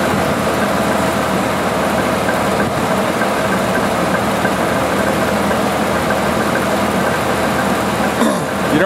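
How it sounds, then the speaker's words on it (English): A fully warmed-up 1988 Jeep XJ engine idling steadily at a constant low rumble, close by, with faint background clatter and a brief knock near the end. "this engine's fully warmed up"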